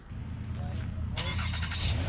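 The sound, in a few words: car engine starting by remote start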